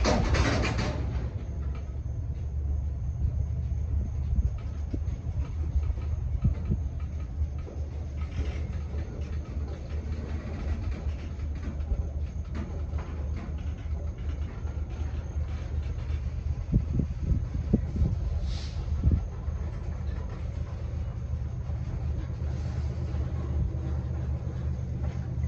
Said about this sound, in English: Cool, hearing that EMD giving power.